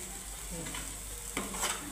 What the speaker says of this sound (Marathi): हे बघा चांगला परतू द्यायचा मसाला.